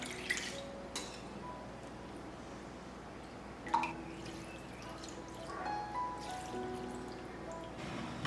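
Cooked sago pearls are rinsed in cool boiled water, giving faint, scattered drips and short pours with quiet gaps between them.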